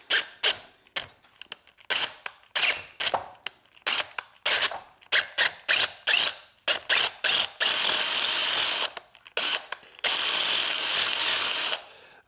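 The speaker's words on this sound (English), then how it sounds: "we can drill this out real quick" A power drill bores out a snug-fitting pin on a Corvette, starting and stopping in quick bursts before two longer, steady whining runs.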